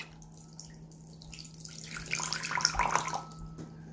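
Water squeezed from a bottle through the two outlet nipples of a model boat's water cooling system, soft trickling and dripping that builds into a brighter gurgling flow near the end, close and quiet.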